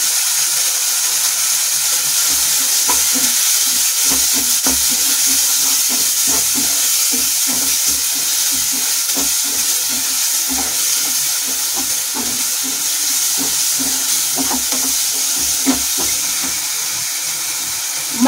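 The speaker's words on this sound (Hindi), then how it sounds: "मैं अच्छे से भून लूंगी प्याज को।" Onions and spices fry and get stirred in a pan for a curry, a steady close sizzle and hiss with soft scraping stir sounds throughout, no talking.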